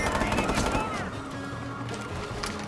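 Gunfire in the video game Watch Dogs 2, a loud, dense rattle of rapid automatic shots blending with engine and game noise, while a voice talks excitedly over it.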